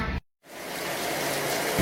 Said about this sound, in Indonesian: Duh, hujan euy.